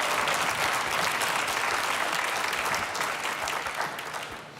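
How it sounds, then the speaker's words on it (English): A studio audience at a morning live show in Mesa applauds as a guest from the Boys and Girls Club walks up, a dense, sustained round of clapping that slowly fades toward the end. "Big round of applause as Charles comes up."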